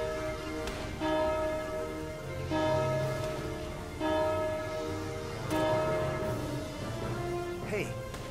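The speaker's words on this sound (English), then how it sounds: "Now ring the bell 5 times." A bell rung five times in Valkyria Chronicles 4, five resonant struck tones spaced about every 1.5 seconds and ringing out between strikes, heard over steady background music.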